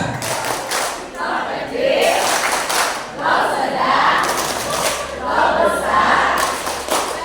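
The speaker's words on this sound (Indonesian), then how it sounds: "berikan tepuk cinta untuk Bu Rudi." An indoor audience at a teachers' writing workshop doing a rhythmic tepuk cinta clapping chant, loud and close, with thumping claps and group voices in steady patterned bursts.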